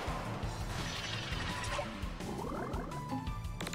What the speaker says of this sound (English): You hear the water gets angrier.